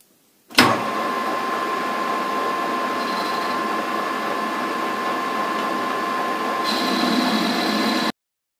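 A 5 mm hole being drilled in a small metal part for a vacuum cleaner wheel repair: a steady, even motor whine with a faint cutting hiss that runs unbroken for about seven seconds, growing slightly brighter near the end, then stops abruptly.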